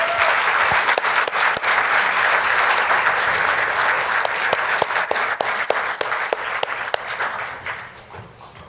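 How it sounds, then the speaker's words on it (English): Sustained applause from an awards-ceremony audience for a tile and stone design winner, dense clapping with sharp individual claps standing out, fading toward the end. "let's give him a round of applause"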